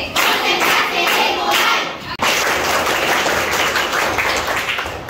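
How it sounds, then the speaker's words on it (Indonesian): Loud group hand clapping in a classroom lesson, a dense, energetic burst from many pupils with a brief break at about two seconds before the clapping resumes. "Yuk, tepuk tangan lagi."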